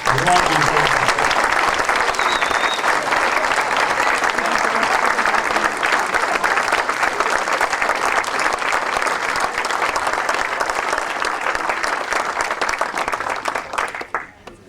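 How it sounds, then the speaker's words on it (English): A large crowd at a police and firefighters awards banquet applauds steadily for several seconds, a dense wash of clapping that fades out at the end. "Let's give them another round of applause."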